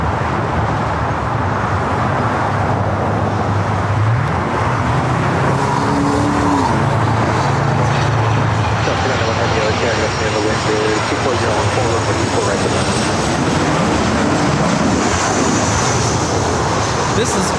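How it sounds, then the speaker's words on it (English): Airbus A330neo jet airliner at Los Angeles International Airport, its engines giving a loud, sustained roar with shifting whine tones that stay close and dominant for the whole stretch. "A330 Neo in the blue striped livery."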